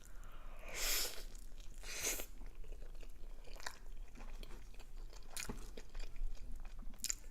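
Someone bites and chews a super burrito up close, giving soft wet crunches and mouth noises with a couple of louder bites and no talking.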